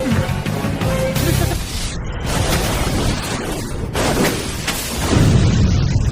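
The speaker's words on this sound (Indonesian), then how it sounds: "mereka pun langsung turun dan mobil pun meledak." A car explodes in an alley in a movie scene: a loud, sustained explosion roars with rumbling low-end and crackling debris, swelling again toward the end as the blast continues to boom and scatter.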